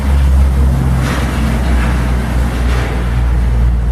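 Steady roar of traffic from a nearby highway and busy street beyond a backyard wall, heard as a loud, continuous low rumble with passing vehicle swells and no voices.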